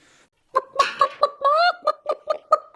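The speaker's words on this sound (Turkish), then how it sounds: "Gördün mü tavuk sesini?" A run of short, rhythmic clucks, about a dozen in quick succession, loud and close with a brief squawk in the middle.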